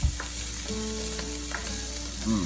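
Korean fried rice sizzles steadily in a hot pan as sesame oil goes in, a constant close crackle with faint clinks of a utensil and no talking.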